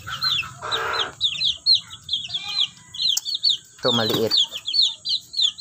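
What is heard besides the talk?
chicken hens clucking in a backyard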